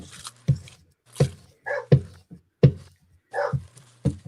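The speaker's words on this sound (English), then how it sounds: "He's in there barking at my husband" A dog barks repeatedly from another room, short muffled woofs spaced about every half second to second, with a couple of softer whimpering yips between them, moderately loud but slightly distant.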